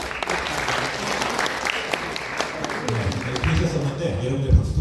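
An audience at an office opening ceremony claps steadily, a dense sustained applause close by that swells slightly toward the end, with a voice speaking over it.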